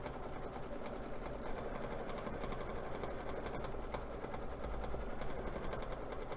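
A sewing machine stitching a design, a steady, fast mechanical whir and rattle running unbroken and close throughout.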